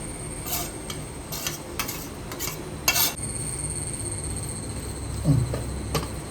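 Egg noodles with tomato and soy sauce are stirred in a pan, a soft background sizzle punctuated by several bright scrapes and clinks of a utensil against the pan.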